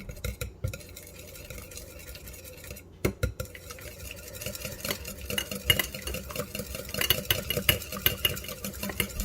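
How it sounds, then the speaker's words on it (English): Eggs and milk whisked together in a bowl for French toast, a steady run of quick, close scraping and clinking strokes with no talking. "We're going to take these ingredients and whisk them together."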